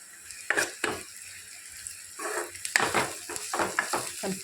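A tempering of spices for buttermilk rasam sizzles in a pan as turmeric goes in, with intermittent soft spoon stirring and scraping and a faint hiss between the bursts.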